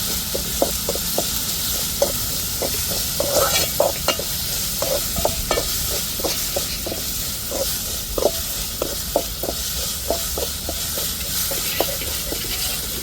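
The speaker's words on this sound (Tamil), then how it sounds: "இப்போ இஞ்சி பூண்டை சேர்த்து நல்லா வதக்கி விட்ருவோம்" Ginger garlic paste sautés with tomato and chili in a pan: a steady close sizzle runs throughout under regular, rhythmic clicks and scrapes of a spoon stirring against the pan.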